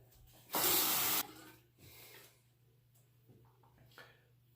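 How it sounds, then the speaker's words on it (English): Water running briefly from a tap to rinse a shaving brush: one short hissing burst of under a second, followed by quieter handling sounds over a low hum. "let me go ahead and rinse again here"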